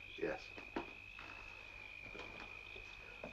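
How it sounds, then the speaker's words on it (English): Crickets chirp at night in a continuous thin, high trill, faint and steady throughout, while soft voices and a couple of low thuds sit underneath. "Or maybe it was the crickets."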